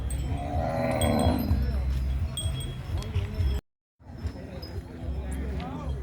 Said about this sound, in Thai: วัวครับ